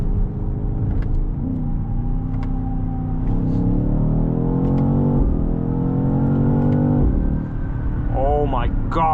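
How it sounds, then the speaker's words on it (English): A 738 hp 2024 BMW XM Label accelerating hard from inside the cabin, a loud, steady engine roar rising in pitch through several quick gear changes, with a voice briefly heard near the end. "Oh my god, this thing is so fast. That is just mind-blowing power."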